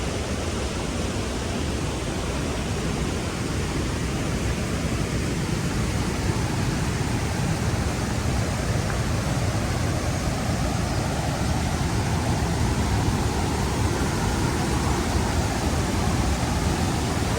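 An 18-foot waterfall of clear spring water in Box Canyon, Southern Idaho, roars as a constant broadband rush with no pauses, loud and close.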